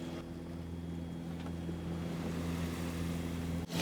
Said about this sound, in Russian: Пока мы идем без парусов, только на моторе, потому что абсолютно нет ветра.